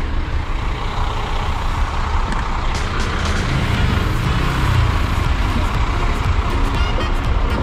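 A Scania K410IB bus pulls into the rear parking area of a Tangerang bus terminal, its heavy diesel engine rumbling loudly and steadily with faint hissing and clicks above it.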